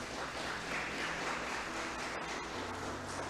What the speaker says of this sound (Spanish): Vamos a aplaudirle al Señor, hermano.